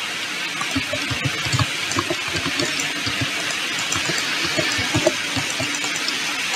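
Steady flowing water in Minecraft, a continuous trickling wash with small bubbling pops throughout, even in loudness and heard alone without talk.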